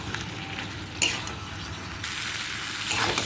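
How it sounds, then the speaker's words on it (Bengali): Pointed gourd, potato and fried soybean chunks are cooked in spiced oil, giving a continuous close sizzle with a few scraping stirs and clinks of a utensil against the pan, with no talking. "এবারে আমি দিয়ে দেবো পটল আলু আর সয়াবিন ভাজাগুলো দিয়ে তিন চার মিনিট মতন বেশ ভালোভাবে কষিয়ে নেব"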